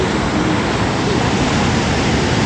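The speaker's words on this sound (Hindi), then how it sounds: "तो ये है हमारी चंद्रभागा रिवर और यहाँ देखिए हमारा कितना खूबसूरत झरना है।" A waterfall beside the Chandrabhaga river in Lahaul during heavy mountain rain, a steady, broad rushing roar of falling water with no pauses.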